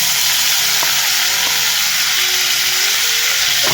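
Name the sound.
hyacinth bean pods sautéing in a pan with garlic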